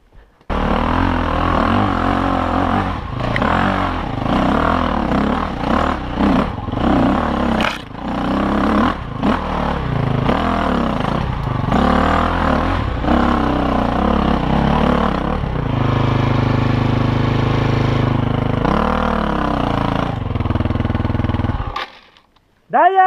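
An enduro motorcycle engine revs up and down repeatedly, then holds a steady higher drone before cutting off abruptly near the end, loud and close.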